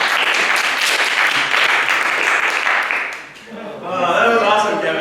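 Audience applause at a social media marketing session, a dense wash of clapping that swells loudly, dips briefly near the middle, then returns with voices mixed into the noise.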